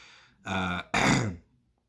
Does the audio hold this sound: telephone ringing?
no